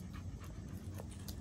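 A pitbull pants close by in quick, rhythmic breaths that run through the short stretch, fairly soft and with no voices over it.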